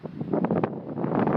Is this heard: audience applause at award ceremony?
no